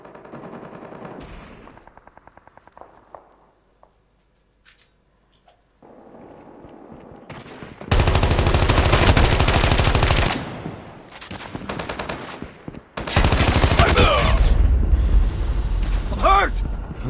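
Heavy automatic gunfire in the Call of Duty Mobile game, sustained loud bursts of rapid shots after a quieter stretch, with game voices and talk around them.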